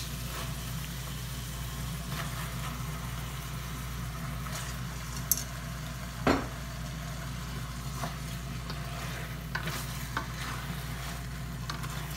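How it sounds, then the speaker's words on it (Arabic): Onion, garlic and chicken frying in a pot, a steady low sizzle under a constant background hum, with a few faint clinks and one sharper knock midway. "نخليهم يتشحروا شويه تقلات البصله والثومه شويه غادي نضيف الدجاج"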